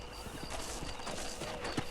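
Horse hooves clip-clop at a steady walking pace in the Red Dead Redemption video game, soft and fairly close over a dense layer of ambient game sound, with a faint whinny-like tone near the end.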